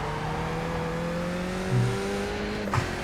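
Race car in the iRacing sim braking hard into a hairpin on the Adelaide street circuit, a steady engine drone with falling pitch through the 3 seconds and a short tyre scrub near the end.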